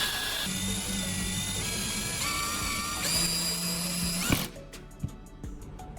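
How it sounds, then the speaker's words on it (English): An electric drill whines in several bursts with rising pitch as it drives screws into small wooden bars, then stops, leaving a few light knocks. "I use an electric drill and screws to secure these two small wooden bars"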